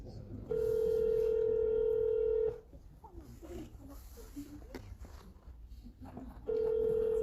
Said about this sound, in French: ça sonne vraiment à l'étranger